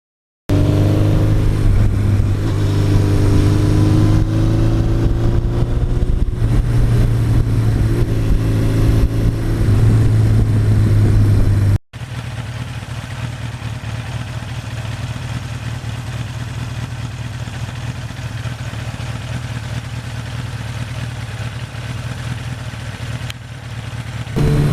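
A 1982 Suzuki GS1100E motorcycle engine runs with a steady, loud idle, its low rumble and harmonics shifting slightly, then continuing at a lower, rougher level after a brief cut.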